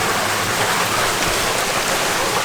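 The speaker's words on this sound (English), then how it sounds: "The water flows in there." Water rises from underground and rushes through a shallow cave on the Walls of Jericho trail in north Alabama, making a loud, steady broadband hiss like a stream or small waterfall with no pauses.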